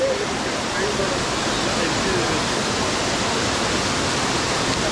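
A loud, constant roar of rushing water, like a waterfall close by, fills the whole stretch without a break.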